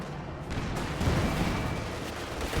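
Tank cannon and artillery fire in the video game Company of Heroes 2, with Panzer IV and T-34-76 tanks in battle: a dense, continuous rumble of booms and blasts that fills the whole moment.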